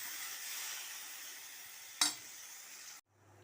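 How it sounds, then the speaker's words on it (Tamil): Cumin powder sautéing in a pan with chilli and onion gives a steady close sizzle, broken by one sharp clink of a utensil near the end, then quiet. "அதுக்கப்புறம் சீரகத்தூள் அந்த பொடியை போட்டு நல்லா வதக்கிடுங்க"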